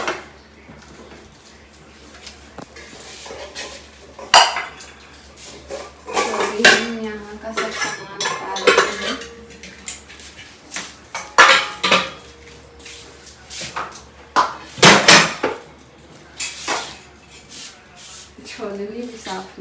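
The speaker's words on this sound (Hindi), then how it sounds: "ये सब बर्तन सब साफ है, लेकिन धोना है।" Pots, pans and utensils clatter and clank in irregular bursts as kitchen dishes are washed, loud and close, with someone talking in Hindi between the knocks.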